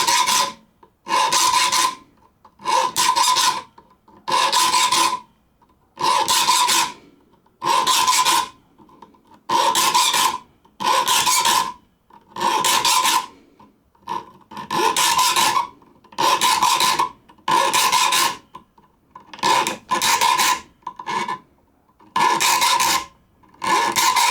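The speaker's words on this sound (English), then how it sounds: "you will run a flat file right across it" A flat file rasping across a handsaw's steel plate in long, regular strokes, each a harsh scraping burst separated by brief pauses, close and steady throughout.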